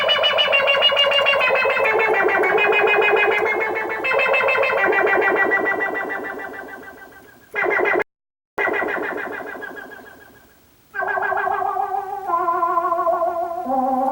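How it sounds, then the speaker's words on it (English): A vintage 1970s Roland SH-1000 analog synthesizer producing sci-fi tones with a resonant filter, warbling, pulsing and sweeping pitches that fade, cut out abruptly and return as stepped melodic notes. "This makes fantastic sci-fi sounds from the 70s."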